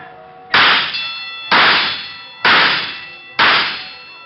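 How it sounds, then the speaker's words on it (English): Carnival shooting gallery gunshots striking target bells, staged as a radio sound effect: four loud, sharp ringing clangs, evenly spaced about a second apart, each decaying quickly. "so we stopped at the shooting gallery."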